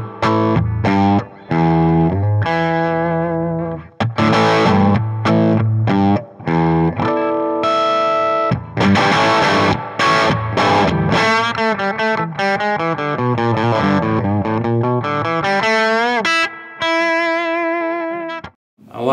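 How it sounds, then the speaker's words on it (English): Electric guitar played through a Magnatone Single V, a tweed-inspired amp with tremolo, vibrato and reverb, giving a continuous close, loud phrase of chords and single notes with slight breakup and effects shimmer, no talking. "this is the Magnatone Single V, which is a tweed-inspired amp, but also has tremolo, vibrato, and reverb"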